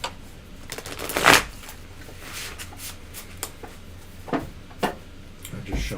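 A deck of tarot cards is shuffled by hand, giving soft riffling flutters and scattered light taps and slaps of card stock, close by and intermittent across a quiet room.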